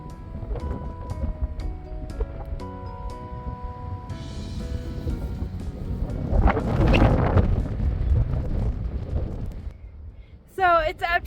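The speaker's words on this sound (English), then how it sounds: "it's super windy" Strong wind buffets the microphone in loud, rumbling gusts that swell and fade on a steep Appalachian Trail ridge near Fontana Dam, with a voice talking underneath.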